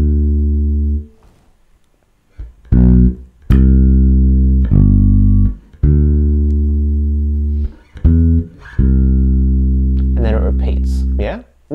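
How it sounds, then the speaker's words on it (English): An electric bass guitar plays a sparse, subdued verse line of sustained low notes separated by short gaps, with no voices. "The bass line in the verse sounds like this."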